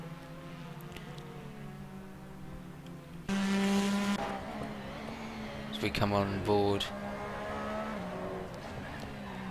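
A Porsche 911 RSR race car in a racing video game at the Nürburgring, its engine droning steadily and then roaring louder as it shifts through gears, with a brief tire screech, under continuous commentary.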